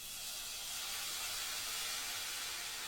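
A can of diced tomatoes hits a hot pan and sets off a steady, loud, close sizzle that hisses evenly throughout with no talking.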